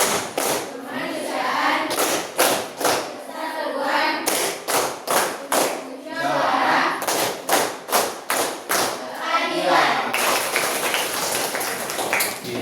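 Classroom of vocational high school students performing the Tepuk Pancasila clapping routine, sharp rhythmic hand claps in patterned bursts alternating with children's chanted voices, near and fairly loud throughout.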